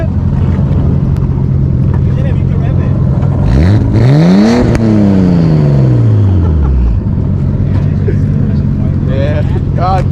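A car engine revs hard at a street car meet in San Diego, rising to a loud peak then falling away, alongside a steady idle and wind buffeting, with people talking nearby.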